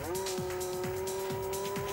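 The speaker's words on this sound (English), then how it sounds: "Just look at the acceleration as he goes down to Copse Corner." A 750-horsepower McLaren Formula One race car accelerates toward Copse Corner, its engine a loud, sustained high-pitched whine that holds steady throughout.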